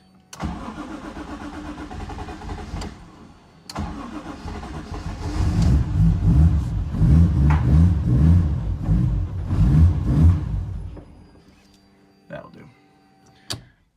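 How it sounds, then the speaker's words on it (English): A Mazda RX7 FC fitted with a 1JZ engine cranks and fires, then runs loud and close at a rough, uneven cold idle for several seconds before dying away; a few clicks follow near the end. "I'm not letting it warm up, so it doesn't want to stay idling."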